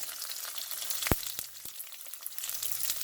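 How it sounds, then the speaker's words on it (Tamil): Fennel seeds, onion, green chilli and curry leaves fry in sunflower oil with mustard seeds for a beans dish, a continuous close hiss broken by a few sharp pops and crackles. "கருவேப்பிலை எல்லாத்தையும் நல்லா வதக்கிடுவோம்"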